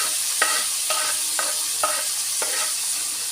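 Tomatoes and coriander are stirred into moong dal khichdi in a hot pan, giving a soft constant sizzle broken by about five regular scraping strokes of a spoon roughly half a second apart.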